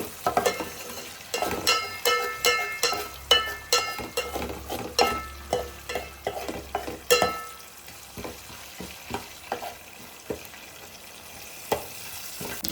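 Fried tempering is mixed into a ridge gourd chutney with peanuts, making a steady run of rhythmic stirring knocks and soft sizzle close by, thinning out toward the end.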